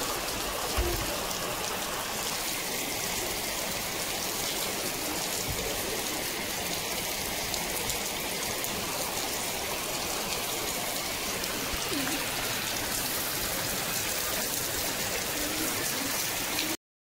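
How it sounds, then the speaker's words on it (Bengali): Heavy rain pours steadily over pigeons gathered at their loft, a dense unbroken wash of noise for the whole stretch, with no voices. "তো আরও জোরে পড়ছে পানি"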